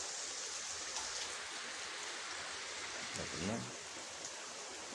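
Steady broadband rain hiss throughout, with a brief low rumble near the middle and faint voices in the background.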